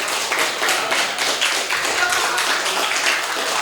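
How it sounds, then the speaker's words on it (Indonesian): Studio audience claps loudly and steadily for several seconds, a dense wash of hands with faint chatter underneath. "Coba minta tepuk tangannya."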